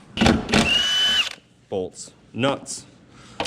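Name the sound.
Ryobi power drill removing strut nuts on 2004 Toyota Camry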